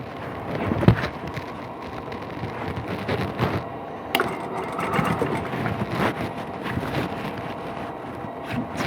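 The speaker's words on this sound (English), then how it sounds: "Turn that around and we will sew this together." A sewing machine stitches quilt block pieces together with a continuous low whirring run. Faint bumps and one sharp click break into the hum, and nobody speaks.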